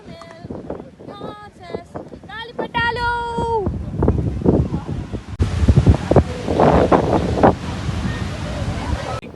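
Loud, steady wind gusting across the microphone at Malpe Beach, Udupi, Karnataka, with people talking and brief musical tones early on.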